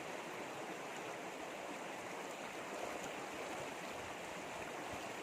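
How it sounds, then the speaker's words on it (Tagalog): A river current rushes past in a steady, dense wash of broadband water noise, close and unbroken, with no voices over it. "kunan natin ng picture yung agos ng ilog"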